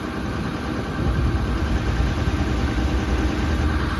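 A 1984 Mercedes turbo 917 truck engine runs at a steady idle, a close, continuous low rumble that grows slightly louder after the first second and then holds even, with no voices.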